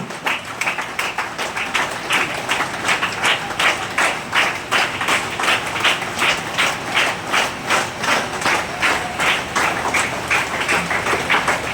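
Students and audience clap steadily at a school assembly for a teacher's retirement, continuous applause with a regular pulsing rhythm from a large group nearby, holding at a constant loudness throughout.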